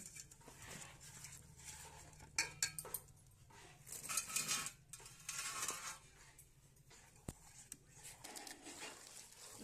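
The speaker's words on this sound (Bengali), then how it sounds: "লাউটির সঙ্গে গুড়িটি ভালো করে মিশিয়ে নেব" Grated bottle gourd being mixed by hand with rice flour in a bowl: quiet, irregular scraping and clinking bursts of stirring, with soft dull knocks in between.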